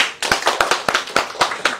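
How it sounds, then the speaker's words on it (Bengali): At a live event at Saha Textile, a few people clap their hands together close by, about ten sharp, fairly quick irregular claps within under two seconds. "সবাই হাততালি দাও"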